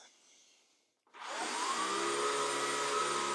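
A Shark Stratos Pet Pro vacuum cleaner falls quiet after a soft hum, then roars back up to full power on its own, a loud steady motor whine with rising tones held to the end.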